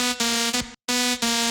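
A flat, unautomated synth note from an FL Studio project, played as a steady, buzzy, harmonically rich tone in three repeated hits with a brief silent gap in the middle, loud and alone.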